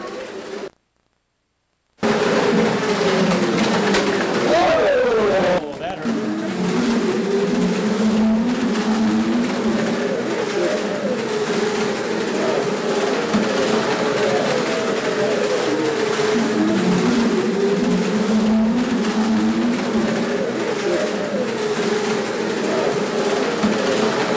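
Small electric motors of slot cars whine loudly and continuously as they race around a track, their pitch rising and falling as they pass, after a brief silence.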